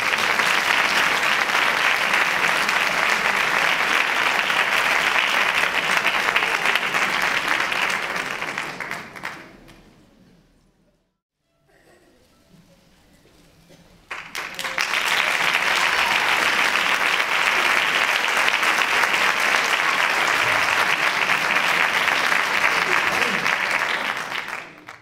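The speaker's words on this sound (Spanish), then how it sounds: "Un fuerte aplauso para ellos." Loud applause from a festival audience for a youth orchestra at a Christmas carol festival in Chiclana, two long bursts of full clapping separated by a brief quiet gap.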